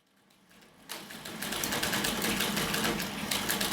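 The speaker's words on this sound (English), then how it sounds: "Printer Being 1 is controlling the printer. It randomly moves horizontally." A salvaged printer's mechanism in an art installation moves its head horizontally, starting quiet and then buzzing into a fast, rattling mechanical whir that stays loud and steady, close by with no talking.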